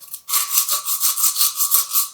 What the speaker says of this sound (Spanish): Es esto lo que vamos a hacer con esta lija, nada más en las orillas.